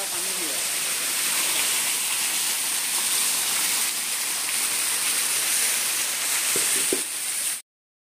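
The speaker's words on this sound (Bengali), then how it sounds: "ওদিকে ছোটোখাটো আরেকটু আছে, জল পড়ছে উপর থেকে।" Water pours and splashes steadily at Mahadev Tila waterfall in Ambassa, Tripura, a constant close rushing hiss filling the scene, with a couple of brief knocks near the end before it cuts off.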